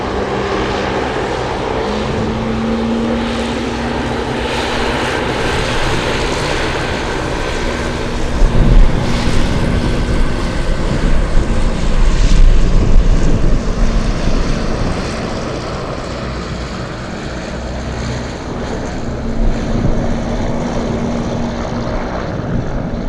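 A FedEx Boeing 777 cargo jet starts its engines at Anchorage airport, a steady distant rumble and rising whine that swells midway, heard from afar in gusty wind.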